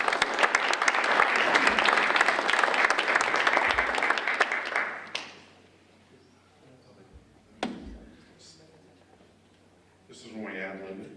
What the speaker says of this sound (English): Can we get a round of applause for all that?